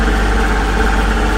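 Tractor with recently repaired hydraulics rumbling steadily on the drive home after snow blowing, a continuous loud low engine drone with vibration and no talking.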